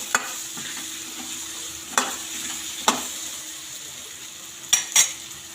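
Chopped tomatoes and green peas for a spicy bhaji are stirred in a pan, a soft continuous sizzle broken by four or five sharp spoon scrapes and clinks against the metal, close and alone.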